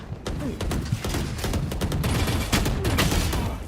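Rapid bursts of gunfire from a video game, dense overlapping shots continuing throughout, loud and close, with faint voice activity underneath.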